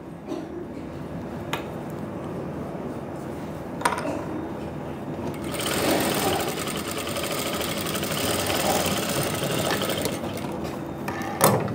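A sewing machine stitches a kurti sleeve. It opens with a few isolated clicks, then runs in a close, steady mechanical whir with slight ratcheting, ending in a couple of sharp knocks.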